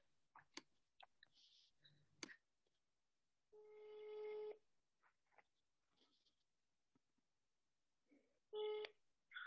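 A telephone dials a number: a run of quick clicks and short tones, then long steady ringback tones with pauses between them, faint and close, with no speech.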